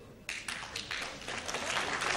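Audience applause at a public talk, breaking out suddenly and swelling into a steady, dense patter of many hands clapping that continues to the end.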